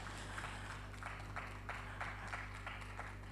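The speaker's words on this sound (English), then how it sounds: "Please let's clap for them" Audience clapping for performing artists at a migrant dialogue opening ceremony, steady moderate applause of many hands over a low electrical hum, fairly distant and soft.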